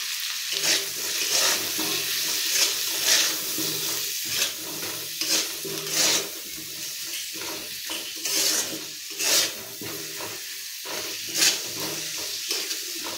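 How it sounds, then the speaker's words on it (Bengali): Bay leaf, cumin and green chili fry in hot oil in a pan with a steady sizzle, broken by repeated stirring scrapes and brief louder bursts, close by and without talk. "একটু তেজপাতা, একটু জিরে ফোড়ন দিয়েছি, কাঁচা লঙ্কা দিয়েছি"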